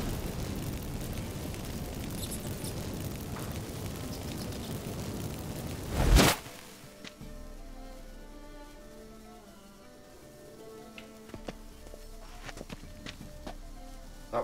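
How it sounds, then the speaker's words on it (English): Magic fireworks set off by burning incense in The Witcher 3 video game, a loud crackling burst that erupts and fades within a second, followed by quieter scattered pops and ambient game sound. "Get ready for some magic fireworks. Once I activate the incense,"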